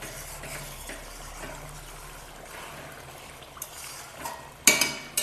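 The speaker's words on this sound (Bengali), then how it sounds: "মাংসটাকে কষিয়ে নেব" Boiled mutton is worked around a pot with a spoon, producing a soft steady bubbling and scraping bed that ends in a few sharper metallic clinks near the end.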